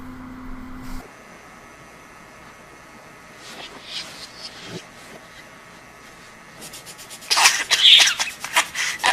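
A man coughs in a short burst of several harsh coughs near the end, after a quiet stretch with faint rustling.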